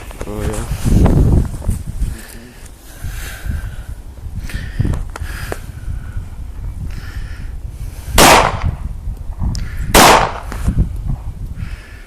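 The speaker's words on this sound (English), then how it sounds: "Two shots, no failure to feed or nothing else." Two loud, sharp gunshots from a Glock 22 pistol ring out a couple of seconds apart near the end, with people talking before and between them.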